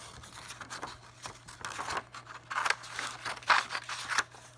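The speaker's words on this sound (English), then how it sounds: "So I just take my scissors" Scissors snip roughly through paper while a heart-shaped book is being made: a steady run of close, crisp cuts and crunches, alone with no talk.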